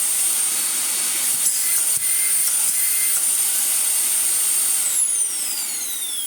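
Compressed air blasting dust out of a Dyson vacuum cleaner, a loud continuous high-pitched hiss held steadily for several seconds, with faint rubbing and handling noises beneath.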